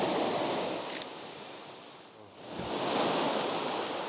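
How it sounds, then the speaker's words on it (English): Ocean surf at sunrise washes in and out over sand and rocks, a steady broad roar that swells, eases briefly, then builds again, with no voices. "with every wave that comes in and out, it reveals like a different texture of the sand and just washes in more rocks or takes away rocks"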